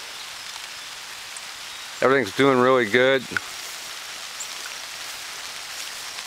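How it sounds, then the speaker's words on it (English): Steady rain falls on a vegetable garden with pumpkins, a constant soft hiss throughout, while a person speaks briefly over it. "In fact, it's raining right now."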